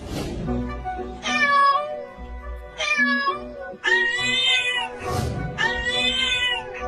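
A cat meows four times in a row, each call long and clear, loud and close, with short quiet gaps between them and no voices.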